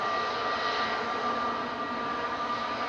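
An EasyJet Airbus A320 Classic taxiing along a taxiway at Manchester Airport produces a steady, fairly loud engine rumble with a constant high whine, unbroken and without talk.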